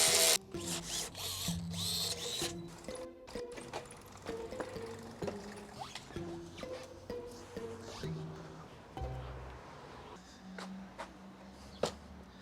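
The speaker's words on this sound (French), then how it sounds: "Là pour finir de tout fixer on va utiliser la visseuse" A cordless power screwdriver drives screws while fixing parts on a Yamaha motorbike, giving several short whirring bursts with pauses between them over a busy workshop background. Nobody talks.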